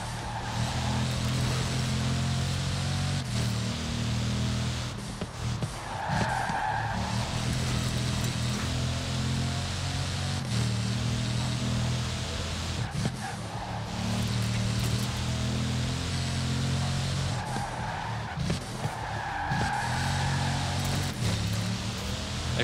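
A car races along mountain curves in Forza Horizon 4, its engine droning steadily and loudly with brief tire squeals breaking through at intervals.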